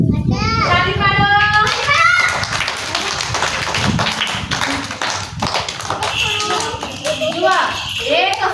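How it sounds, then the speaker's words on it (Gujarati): A group of children in a storytelling class claps hands, sharp rapid taps and claps mixed with children's voices and an adult talking over them. "તાળી પાડો."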